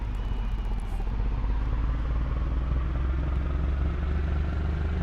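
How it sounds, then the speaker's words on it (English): Car engine in the Gran Turismo 4 video game, struggling and conking out at around 10 miles an hour, heard as a loud, steady, rough droning rumble that carries on throughout. "Listen to the engine. We're literally getting to 10 miles an hour and then we're conking out."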